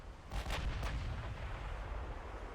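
Naval gunfire in the warship game Ultimate Admiral Dreadnoughts: two close heavy shell blasts in quick succession ring out over a steady low rumble of sea and engine noise, with no talk.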